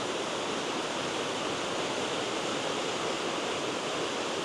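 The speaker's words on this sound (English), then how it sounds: "Show you guys the river. It's flowing good now with all the snow melt." Steady, loud rush of a river running high with snowmelt, a continuous broadband roar of churning water heard close by with no break and no voices.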